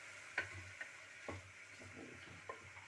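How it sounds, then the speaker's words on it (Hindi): Soaked, washed moong dal roasts quietly in a pan, a faint low sizzle broken by a few light scrapes and ticks from stirring. "इसमें हल्का सा हम इसमें रोस्ट कर लेंगे"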